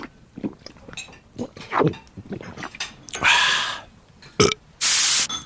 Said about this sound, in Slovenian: Pa rignil.